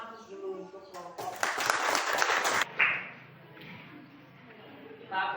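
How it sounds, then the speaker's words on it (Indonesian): A small group claps in a classroom-style meeting with a short, sharp burst of applause after a group answer, framed by talk before and after. "Kita berikan aplaus dulu untuk kelompok."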